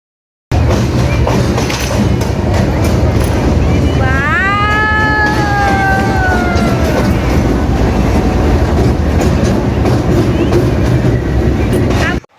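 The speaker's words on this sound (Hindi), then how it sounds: "तो ये आ गई हमारी ट्रेन।" A passenger train pulls into a railway station with a loud continuous rumble and rattle of wagons, and a long drawn horn blast sounds partway through; people talk nearby.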